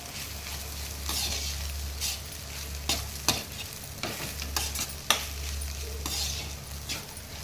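Meal maker (soya chunk) curry being stirred and mixed in a pan, with steady frying sizzle underneath and repeated scraping spoon strokes and taps at an uneven rhythm, close and fairly loud, no talking.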